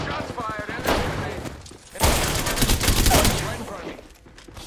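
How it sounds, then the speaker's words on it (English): Gunfire during an Apex Legends match, bursts of rapid shots and impacts in quick clusters, loud and close, with a player talking over the action. "Shots fired. Enemy. Right in front of me."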